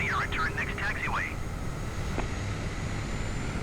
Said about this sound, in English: I've just got to park the plane up.